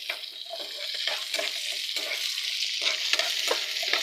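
Tomatoes with garlic, chana dal and small onions frying in a pan while being stirred, a steady sizzle broken by repeated scraping strokes of the spoon, close and clear with no talk.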